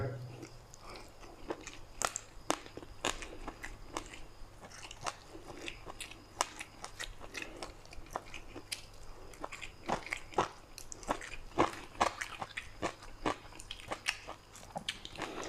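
Someone eats spicy stir-fried rat in a rustic home-style dish, giving a steady series of close, sharp crunches and chewing sounds spread across the whole stretch, faint overall with quiet background noise.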